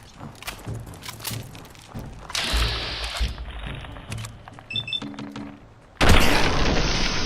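Shotgun blasts and combat noise in Fallout 4, with heavy booms, thuds and scattered impacts, then a loud sustained burst near the end.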